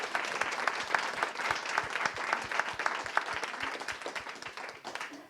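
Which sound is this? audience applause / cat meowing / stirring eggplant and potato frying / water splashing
audience applause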